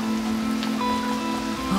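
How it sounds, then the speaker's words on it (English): Steady rain patters on a boat and into collecting buckets, a dense close hiss with a faint tonal hum underneath. "Rainy day today. Making good use of the rain, filling those buckets."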